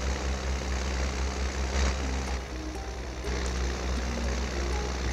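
A tractor engine in Farming Simulator 19 drones in a low, steady idle-like hum throughout, with slight shifts in tone and no speech.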